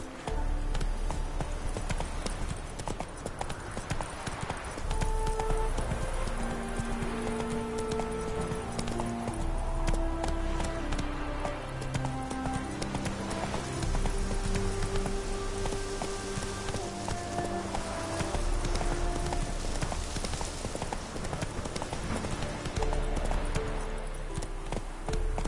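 The horse Roach trots in The Witcher 3 video game, with a steady, close clip-clop of hooves running throughout beneath soft rain-like patter and musical tones.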